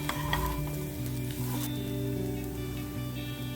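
Ivy gourd frying in a pan over a low flame, a steady close sizzle with soft stirring scrapes and a faint tonal hum running underneath.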